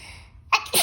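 A child sneezes once up close: a quick catch of breath, then a sharp, loud burst that ends abruptly.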